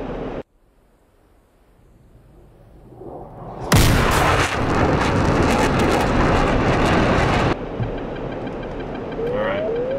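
Missile launch from an F-15C in DCS World: after a low engine hum, a sudden loud whoosh-roar bursts in and stays intense for about four seconds, then drops back to a steady jet drone.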